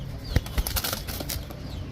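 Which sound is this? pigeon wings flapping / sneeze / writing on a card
pigeon wings flapping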